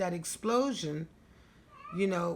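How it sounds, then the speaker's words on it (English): A cat cries in the background with drawn-out, wavering meows that overlap and follow a person speaking nearby, the calls rising and falling in pitch at moderate loudness. "that's my cat crying in the background."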